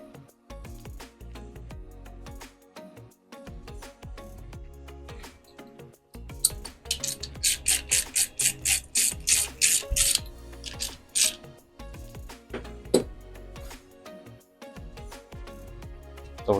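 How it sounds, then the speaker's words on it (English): Fork caps on a Honda CRF110 dirt bike with BBR Motorsports suspension upgrades being snugged up with a wrench, giving a burst of quick ratcheting clicks in the middle amid light mechanical handling noises. "snug them up with a wrench"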